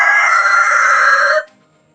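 A rooster crows loudly and close by on a farm where piglets are also raised, one long sustained call that ends abruptly, with chickens around it.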